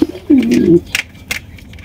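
A male Black King pigeon gives a deep, rolling coo close by, followed by a few short fainter calls and rustles.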